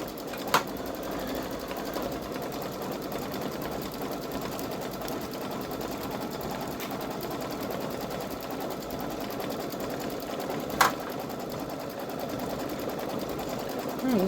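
A Baby Lock Solaris 3 (Vision) embroidery machine stitches an in-the-hoop eagle zippered bag with a steady, even whir, fairly quiet and close, with a couple of sharp clicks along the way.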